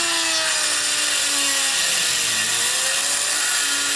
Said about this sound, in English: a cutting wheel, and we're just going to cut a square into this